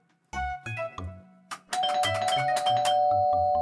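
Rapid, insistent presses of a house doorbell, loud clear ding-dong chimes overlapping and ringing out close by, ending in a sustained ringing tone; no voices.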